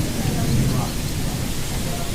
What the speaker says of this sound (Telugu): వర్షం మామూలు వర్షంలో లేదు, తుఫాన్ అండి